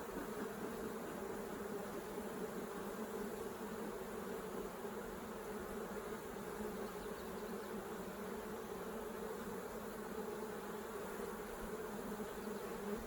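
Honeybees from an opened, troubled beehive hold a dense, continuous buzz, a steady close drone with no break and no voices.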